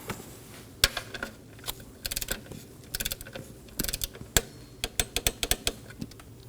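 A 10mm bolt on a 3.5L V6 Nissan Maxima valve cover is tightened with a torque wrench, giving close, sharp ratcheting clicks in quick irregular bursts with short pauses between them.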